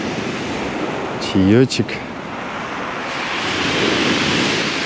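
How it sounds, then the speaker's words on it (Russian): Sea waves wash and rumble continuously onto a stone pebble beach at sunset, loud and close, with a brief voice and a short whistling call in the middle. "здесь море звучит совершенно по-другому, потому что каменный пляж"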